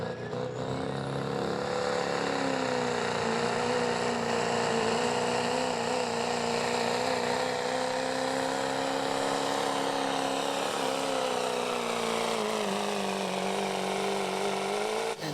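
A 2009 Ford Power Stroke diesel pickup at a truck pull, its engine held at a steady high-revving drone for the whole stretch, loud and continuous with a slight pitch dip near the end, no talk.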